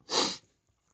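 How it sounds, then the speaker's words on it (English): A single big sneeze sounds close and loud, bursting out sharply and fading within half a second. Near silence follows, then a faint click at the very end. "Wow, big sneezes."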